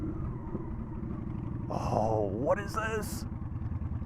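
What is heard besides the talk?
Honda Shadow motorcycle engine while riding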